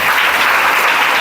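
A church congregation claps loudly during a Good Friday-season worship service, a dense steady wash of many hands sustained throughout with no talking.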